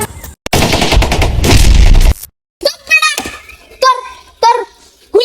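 A loud, rapid burst of gunfire rattles continuously for about two seconds in a Bengali comedy skit, then cuts off and voices begin talking.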